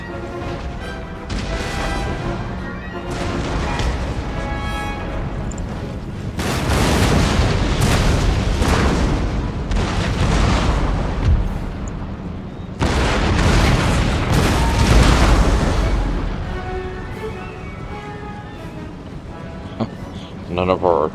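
Artillery volleys in Total War: Empire pound a fortress wall, heavy booms and bursts of cannon fire rolling in repeated waves, loud and dense, with a few sharper reports near the end.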